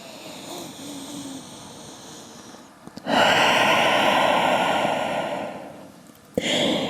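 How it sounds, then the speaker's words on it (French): Deep breath during a slow yoga hip stretch, a long loud airy exhale following a quieter stretch of breathing, then a sharp new intake near the end, with no speech. "On prend juste une grande respiration ici"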